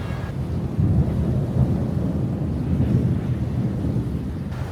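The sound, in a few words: thunderstorm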